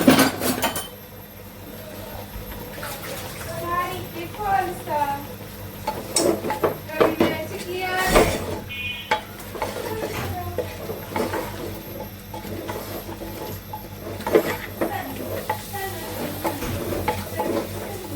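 Dried chili and spices being mixed in a cooking pot, giving clinks and scrapes of utensil on metal with stirring rustles, close by, interrupted now and then by speech.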